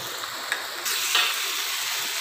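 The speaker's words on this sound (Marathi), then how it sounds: "आणि तिकडे आपला कांदा देखील आता फ्राय होत आलेला आहे" Onion frying in a pan for a cashew curry, a steady hiss of sizzling that swells slightly partway through, close and even with no talking.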